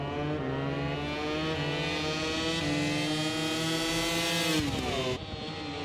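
Ducati and Yamaha racing motorcycles running close together, their high-revving engines blending into a loud, sustained whine with rising and shifting pitch, then a sudden drop near the end as they pass.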